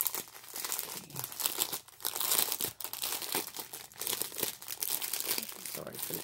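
Plastic packaging sleeves for diamond painting colors crinkle close up in bursts of sharp rustling and crackling, with a voice speaking faintly underneath.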